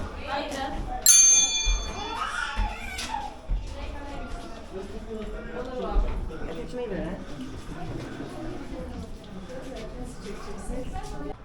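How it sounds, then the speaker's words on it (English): A bell rings at Bran Castle in Transylvania, a bright struck ring near the start that fades out under people talking and moving about. "So, ring the bell."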